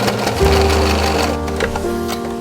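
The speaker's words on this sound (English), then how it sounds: "So I'm just going to quickly do a straight stitch along that" A sewing machine runs a straight stitch along satin fabric, a loud, close, continuous motor hum with a rhythmic needle chatter, heard alone.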